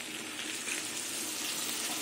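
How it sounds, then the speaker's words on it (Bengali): Water poured into a cooking pan of potol, a soft continuous splashing and hissing, faint and steady for the whole moment with no talk. "এবার জল দিয়ে দেবো"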